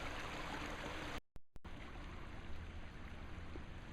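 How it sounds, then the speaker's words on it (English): Diverted stream water flowing toward a waterfall, a steady close rushing and trickling wash that runs throughout, briefly cut by a short gap of near silence before resuming. "the water is diverted and now it goes down toward Joyce Falls"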